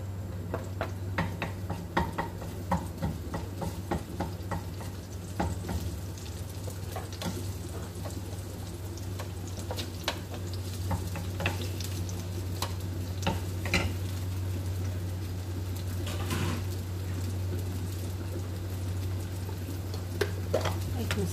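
Sliced onions going into hot oil and being stirred in a pan while cooking mung beans, with a steady loud sizzle and frequent scraping of the utensil against the pan throughout.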